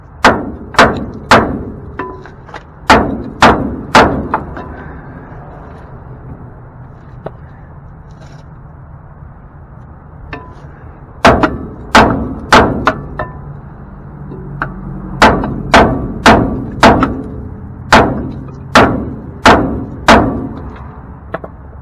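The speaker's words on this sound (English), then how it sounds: "Rule of thumb, always get your bigger hammer." Loud metal hammer blows on a 1969 C10 truck's front end ring out in quick bursts of several strikes, pausing between volleys, with sharp clanging echoes.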